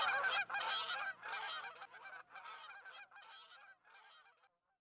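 Geese honk repeatedly in a noisy chorus of overlapping, nasal calls, clear and fairly close, thinning out toward the end before falling silent.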